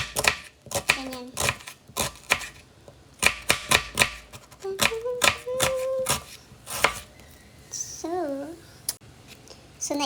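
A knife slices through an onion lengthwise on a cutting board in quick crisp chops, coming in uneven clusters, while someone talks between and over the cuts.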